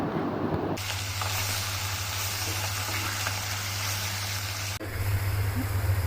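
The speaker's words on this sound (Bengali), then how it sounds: "মাছ ভাজা বসিয়েছি" A pan of fish frying, giving a steady broad hiss over a low constant hum, with a brief break partway through before the sizzle resumes.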